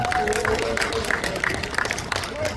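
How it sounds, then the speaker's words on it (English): An indoor press-conference crowd claps and cheers for Michael Vick, a dense burst of applause with scattered whoops, and a voice speaks over the noise. "God clap it up for Michael Vick."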